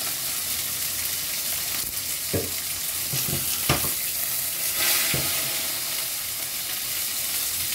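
Cooking oil sizzles in a pan with a continuous bright hiss, broken by a few scraping stirs and sharper spits; no one speaks.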